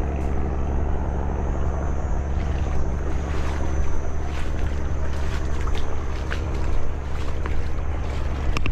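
Steady deep engine drone of a fishing boat at sea, a constant loud rumble with faint water noise layered on top.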